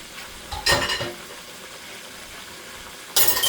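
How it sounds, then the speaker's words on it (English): Steady hiss of chicken frying in hot oil, with a couple of louder bursts of sizzling and stirring scrapes. "I will just continue to keep frying this chicken."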